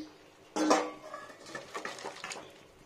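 Boiled potatoes in a pot are tipped into a bowl for a bori sukto, a Bengali vegetable dish, with a sharp metallic clatter followed by softer scraping and knocking of the pot against the bowl, close and fairly quiet.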